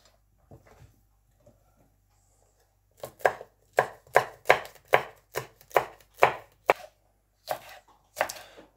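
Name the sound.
green chillies being chopped with a knife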